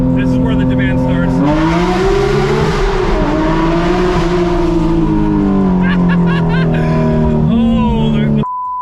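Porsche 911 GT3 Touring with a 4.5-litre engine, Dundon headers and AWE track exhaust, roaring loudly through a sustained acceleration, the note rising and falling through gears, heard close with a brief voice near the end.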